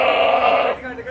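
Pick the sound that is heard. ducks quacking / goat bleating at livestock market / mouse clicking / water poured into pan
goat bleating at livestock market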